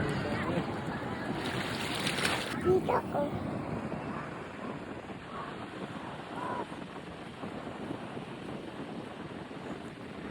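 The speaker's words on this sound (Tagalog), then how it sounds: "Grabe yung alon, no?" Strong surf breaks on the beach at Bolinao, Pangasinan, a steady wash of waves with wind buffeting the microphone and a brief louder surge early on, while people talk close by.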